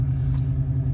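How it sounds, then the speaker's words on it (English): A nitrous-equipped car engine runs rough in 19-degree cold, giving a loud, continuous low rumble with slight unevenness, heard close and steady with no talk over it. "The car's running strange now too."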